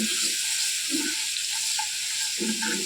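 Garlic sizzling in hot oil in a pan for a spicy village-style vegetable dish, a steady bright hiss held throughout with a few soft stirring scrapes, close and fairly loud.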